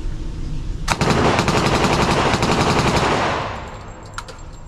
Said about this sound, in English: let's take a look at the first gun, which was the M1A1 Thompson